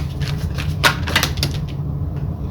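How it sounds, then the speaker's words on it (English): A deck of tarot cards is shuffled, a quick burst of papery riffling and flicks that are close and fairly loud, fading into quiet near the end, with no voices. "Wow, that was just really bad shuffling."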